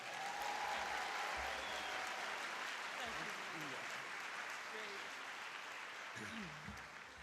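Sustained applause from a large audience at a university convocation, dense steady clapping filling the hall at a loud level, tapering slightly near the end, with a voice briefly audible beneath it.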